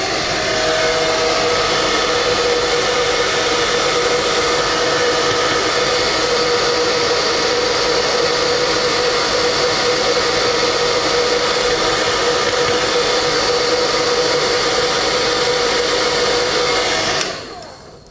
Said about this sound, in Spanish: Ahora le voy a aplicar con el secador, le voy a poner aire frío